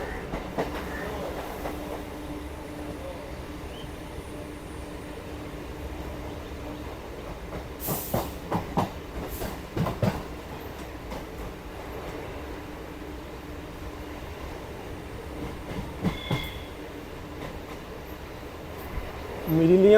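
A Kolkata circular railway train rumbles steadily along its tracks with rhythmic clacks and occasional louder knocks, heard from inside, with a brief screech near the end.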